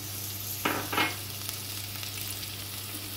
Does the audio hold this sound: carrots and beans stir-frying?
yes